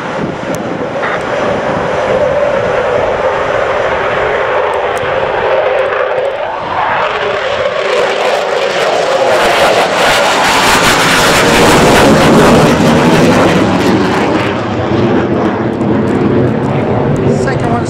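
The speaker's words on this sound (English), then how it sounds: "Oh, here we go, F15s." Four F-15 fighter jets depart RAF Mildenhall with a loud, continuous roar that grows and crackles as they pass overhead, with wind buffeting and a person talking beneath the noise.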